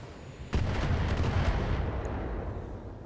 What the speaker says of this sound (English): turrets can put out a pretty surprising amount of firepower in a single shot